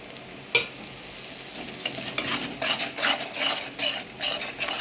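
Onions frying with cumin, coriander, pepper powder and salt, stirred in a pan with a steady sizzle, brisk scraping strokes and clinks of a spoon against metal, close by.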